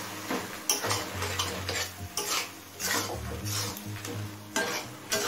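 Sugar being stirred into boiled carrot and beetroot in a pan, a steady run of scraping spoon strokes over a low sizzle, close and fairly loud with no voices.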